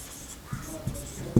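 Chalk or a marker writes on a board in a few short, soft scratching strokes, close and quiet, with brief taps at the ends of strokes.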